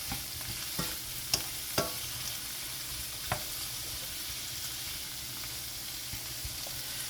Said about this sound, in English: We're going to let that go for about 2 minutes, stirring it all together.